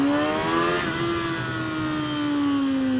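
A 2013 Kawasaki Ninja 636 sport bike revs hard, its engine note climbing steadily in pitch as it accelerates, loud and close with no voices over it.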